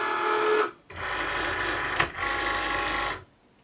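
Cricut Maker cutting machine pulling a fabric cutting mat through its rollers, a close mechanical whir in two runs separated by a short pause, with a brief click midway.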